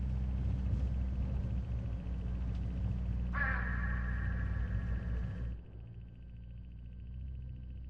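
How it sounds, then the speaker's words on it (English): Hooded crows along a road in the video game Hitch Hiker give a brief, harsh caw that stands out for about two seconds over a steady low rumble of the moving vehicle. "Look, hooded crows all along this road."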